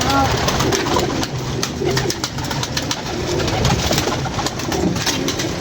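Pigeons coo steadily and close by under a constant bed of noise, while someone talks over the birds.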